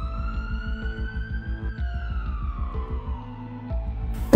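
A wailing siren sweeps up and down steadily, loud and fairly near, over a rhythmic low throbbing engine, with a sharp burst at the very end.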